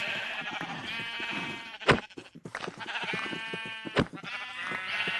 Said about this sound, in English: Sheep are really loud